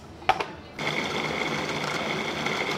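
A food processor making pesto in a test kitchen clicks on, then runs with a steady, high motor whine.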